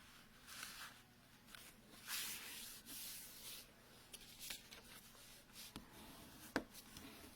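Paper card base for a pool party themed greeting card being folded in half, with soft rubbing and creasing rustles and a few sharp crisp ticks, close and quiet, with no talking.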